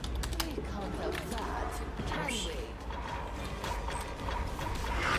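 Keys clatter on a computer keyboard in irregular bursts of clicks, fairly close, over a steady background hum, with no voices over the typing.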